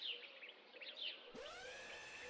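Several chirping bird calls play through speakers in a video game, quick high twittering phrases that switch abruptly to a different, steadier whistling call partway through, faint and alone.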